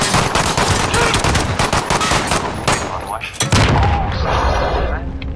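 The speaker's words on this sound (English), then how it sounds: "Oh, that grenade was so close, man." Gunfire and a nearby grenade blast in a shooter video game: rapid bursts of shots crackle for a few seconds, then a heavy boom hits, with a player's voice talking over the action.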